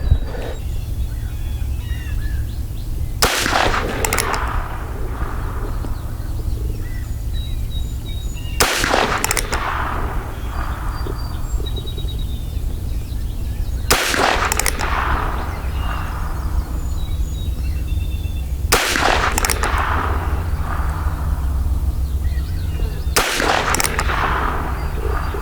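Heritage Rough Rider 22LR revolver with a 16-inch barrel firing Winchester 42-grain subsonic hollow points at a shooting range, five sharp cracks spaced about five seconds apart over a steady outdoor background hum, no talking.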